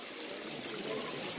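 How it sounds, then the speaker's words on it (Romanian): Erskine Falls, a waterfall, gives off a steady hiss and rush of falling water, moderately close and even, with a hint of voice under it. "We are at the waterfall."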